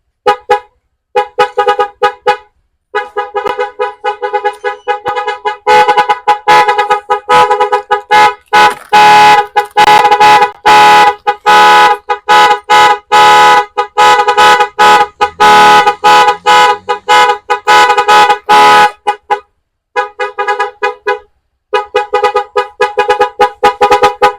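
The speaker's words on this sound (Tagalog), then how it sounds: "Busina mo habang hinahanap ko yung remote" A car horn wired through a relay honks in long sustained blasts broken by short gaps and stutters, loud and close, continuing steadily with no talking.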